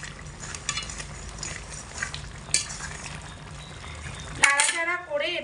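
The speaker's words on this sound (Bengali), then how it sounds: "এবার এটাকে হালকা একটু নাড়াচাড়া করবো" Lentils and pointed gourd cooking with ghee in a pan are stirred with a utensil, giving a steady soft sizzle and scraping, with a louder clatter near the end.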